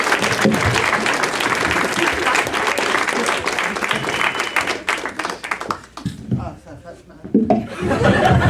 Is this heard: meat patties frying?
no